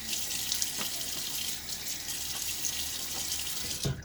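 Tap water runs steadily into a sink to wet the face before a shave, with a continuous close hiss and occasional small splashes.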